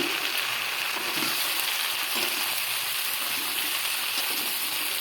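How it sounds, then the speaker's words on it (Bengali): Potatoes, tomatoes and okra sautéing together in a pan for a spiced vegetable dish, a steady hissing sizzle that holds evenly throughout, close and fairly loud, with no talking. "এবার আমি এর মধ্যে দেখো আলু, টমেটো আর ভেন্ডিগুলো একবারে দিয়ে কষিয়ে নেবো"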